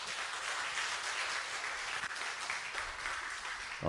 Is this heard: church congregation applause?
yes